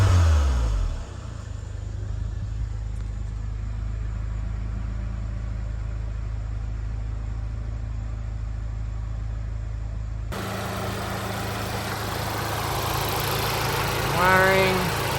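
A Volkswagen Mk7 GTI engine idles steadily with a low, even drone, rising briefly in a light rev near the end; no talking over it.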